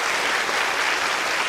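Steady audience applause fills a lecture hall at a science talk on life beyond Earth, dense continuous clapping held at an even level throughout.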